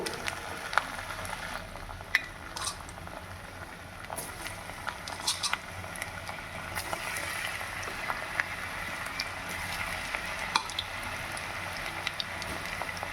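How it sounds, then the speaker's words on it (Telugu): Gobi manchurian, battered cauliflower pieces, frying in hot oil with a steady bubbling hiss and scattered pops and crackles, close and even throughout. "మొత్తం ఇలాగే ఫ్రై చేసి పెట్టుకొని"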